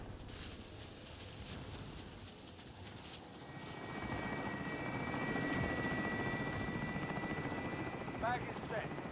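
A helicopter arrives in the Call of Duty Warzone video game, its rotor drone swelling after a few seconds into a steady, louder whirring hum with a thin mechanical whine on top.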